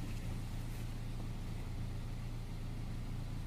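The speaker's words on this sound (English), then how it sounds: "It's just gonna have that car noise in the background" A car engine runs in the background inside the vehicle, a low steady droning hum with no variation, fairly quiet and alone without voices.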